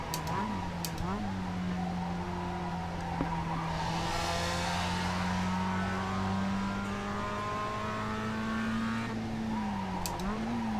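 A Mazda MX-5 race car at Okayama in iRacing, its engine droning at steady pitch before dropping as it brakes, with a faint tire squeal and other cars audible in the background.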